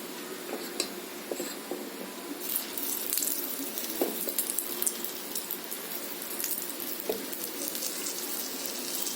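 Kara appam batter sizzles in a hot pan, a steady crackling hiss with sharper pops scattered throughout, moderately close and faint, with no voices.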